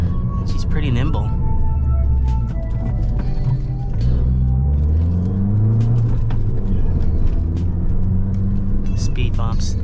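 A Fiat 500 Abarth drives around a parking lot with a rising and falling engine note as it speeds up and slows, close and fairly loud, with clicks and bumps and a person talking over it.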